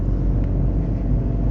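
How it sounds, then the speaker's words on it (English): A Fiat 500 accelerates hard with eco mode switched off, its engine a loud, steady low rumble heard from inside the car with no talk. "Taking off with the Fiat 500."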